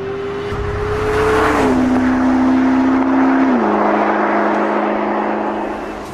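A McLaren P1 drives past with a loud, steady engine drone that drops in pitch through gear changes, accompanied by road and wind roar.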